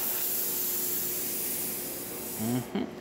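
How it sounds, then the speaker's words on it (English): A La Pavoni Piccola espresso machine's steam wand hisses in a steady, broad rush throughout, with a couple of brief sputtering gurgles near the end. "you can see really good steam coming out of the machine"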